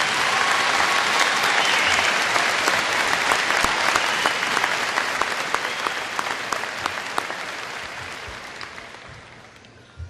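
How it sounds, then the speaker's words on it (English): A graduation crowd gives sustained applause for honor society students at Davison High School, dense clapping at full strength that slowly tapers toward the end. "Please join me in a round of applause for all of these students"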